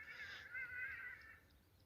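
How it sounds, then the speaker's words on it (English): Hadeda ibis calling in the background at sunset in the wild where yellow mongooses live, a harsh honking cry that rises and holds for about a second, moderately loud over a low outdoor rumble. "those water birds that are making that sound in the background"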